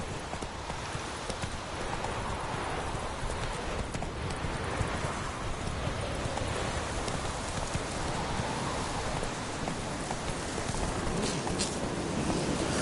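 Roach, the horse in The Witcher 3 video game, gallops with a steady rapid clip-clop of hooves, fairly quiet and continuous, with a light wind-like wash underneath.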